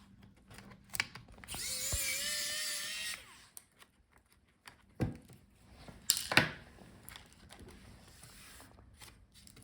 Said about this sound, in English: So unscrew the screws.